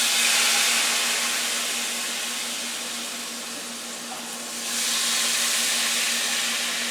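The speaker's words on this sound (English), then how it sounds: "we're going to pour some water in there." Water poured little by little into a hot frying pan holding meat juices and flour from steak steams and sizzles in a continuous loud hiss that dips slightly midway, then swells again.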